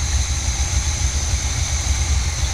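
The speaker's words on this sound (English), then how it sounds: "it's old motor, guys, old. It's at a low idle still." A 1971 Chevy engine, old and long unused, runs steadily at low idle with a deep, even rumble and light irregular pulsing, close and continuous with no talking.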